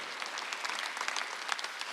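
A Korean church congregation at a Sunday worship service bursts into brisk, crowded applause, with many hands clapping in a loud continuous patter throughout.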